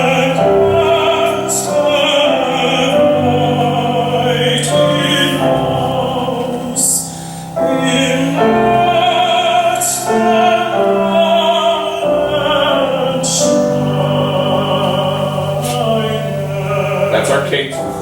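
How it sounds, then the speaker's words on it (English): Recorded music plays a parallel period, two phrases opening alike and ending in cadences, loud and continuous with shifting melodic lines over accompaniment. "I'd like to play for you a little audio example on a CD of exactly what a parallel period would sound like."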